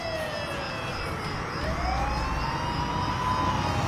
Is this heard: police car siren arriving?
yes